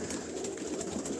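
Caged pigeons give a brief, soft coo against steady low background noise.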